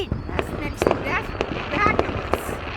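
Fireworks go off in a string of sharp bursts and crackles at a moderate distance while people chat and react over them.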